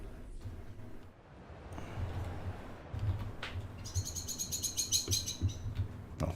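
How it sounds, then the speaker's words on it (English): Birds chirp and tweet in the Frostpunk 2 video game, a cluster of bright, rapid calls rising over a steady low wind-like ambient hum in the second half. "Oh, birds."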